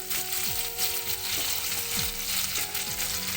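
Curry leaves sizzling in hot olive oil, a steady loud frying crackle with a few scraping stirs of a spoon against the pan.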